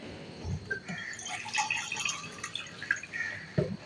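Water poured into a pan holding maash dal on the stove, a soft steady trickle and splash with a few small drips and knocks, close and fairly quiet.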